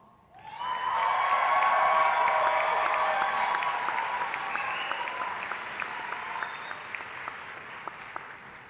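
An audience at an OUWB medical school commencement ceremony breaks into applause for a speaker. The sustained, dense clapping swells quickly, stays loud for several seconds, then eases slightly, with a few sharp individual claps standing out.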